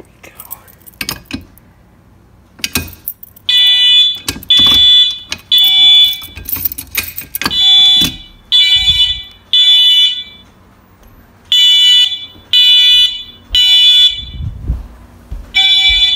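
Wheelock fire alarm sounding in a home system test, loud pulsed electronic tone in repeating bursts with clicks and handling noise between them, close by, with a faint voice in the background.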